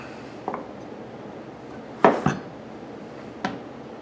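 A kitchen knife cubes butternut squash on a cutting board, giving four sharp, isolated knocks spread unevenly across a quiet stretch, two of them close together, with no talking.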